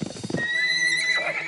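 A few quick hoofbeats lead into a loud, drawn-out horse whinny that trembles and rises, close and clear, in a children's cartoon.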